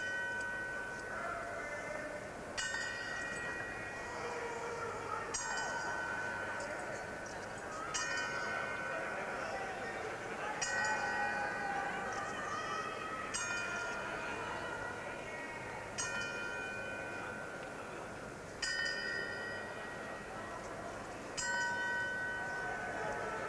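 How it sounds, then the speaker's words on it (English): A bell tolls the traditional ten-count tribute inside a boxing arena before a Mike Tyson fight, ringing clear repeated strikes at a slow, even pace, each leaving a ringing tail over a steady crowd murmur. "they're tolling the 10-second bell"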